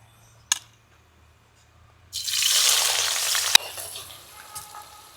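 Sliced onions drop into a hot pan for a duck roast, with a sudden loud sizzle after a near-silent start that eases into steady, crackling frying close by.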